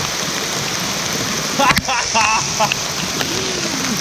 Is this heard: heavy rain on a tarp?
yes